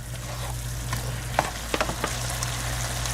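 Chilli chicken fries in a pan with a constant close sizzle while being mixed, a few light utensil clicks and scrapes against the pan over a low hum.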